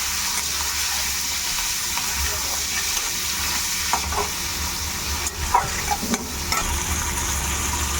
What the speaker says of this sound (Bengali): হালকা একটুখানি তেলে নেড়ে চেড়ে নিলাম